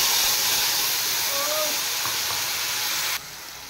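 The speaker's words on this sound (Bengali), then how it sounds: "এবার দেব পেস্ট করে রাখা কাঁচা লঙ্কা" Green chili paste hits a hot pan with a loud, close, continuous steamy hiss and sizzle that cuts off abruptly near the end.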